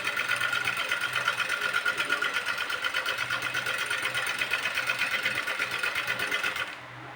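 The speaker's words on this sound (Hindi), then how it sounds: "मैं इसी तरीके से इसे मशीन को हल्का सा घुमाते हुए जिगजैग का शेप दूँगी" A domestic sewing machine runs continuously stitching a zigzag hem on the leg opening of a Patiyala salwar, a steady rapid whirring rattle that stops abruptly near the end.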